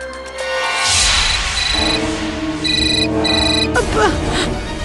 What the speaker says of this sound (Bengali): স্যার, আননোন নাম্বার থেকে কল।